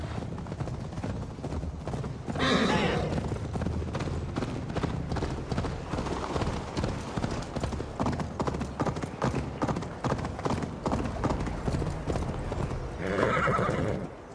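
Rapid, rhythmic hoofbeats of a galloping horse in the video game Assassin's Creed, set in medieval England, run throughout, with a loud whinny near the start and another near the end.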